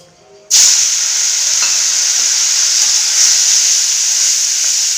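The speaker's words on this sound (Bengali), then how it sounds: "আমি চিংড়ি মাছগুলো কেটে ভালো করে ধুয়ে নিয়ে এসেছি এবারে আমি ভেজে নেব" Cleaned, washed prawns hit hot oil in a wok with a sudden loud burst of sizzling after a moment of near silence, then a strong, steady frying hiss continues close up.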